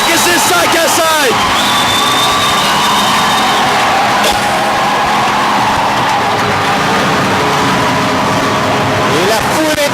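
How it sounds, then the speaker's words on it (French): Hockey crowd at the sports complex in Terrebonne erupts in wild, sustained cheering and whooping after a power-play goal, a loud, dense roar of voices filling the arena with shouts rising over it throughout. "Et la foule est en délire au complexe sportif de Terrebonne."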